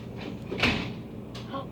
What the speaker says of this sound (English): why are they opening doors at 10 p.m.?